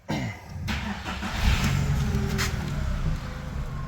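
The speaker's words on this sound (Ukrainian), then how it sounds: "Робите зробити і заводите машину" A car engine cranks briefly and catches, settling into a steady idle with a low rumble, close and fairly loud.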